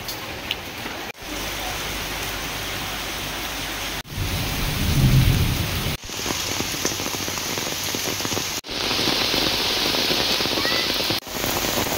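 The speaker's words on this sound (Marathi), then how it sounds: "काय प्रचंड पाऊस आहे, प्रचंड पाऊस आहे" Heavy monsoon rain pours down at a hill-station hotel in Matheran, a loud, steady roar with low rumbling thunder swelling midway, broken by a few abrupt cuts.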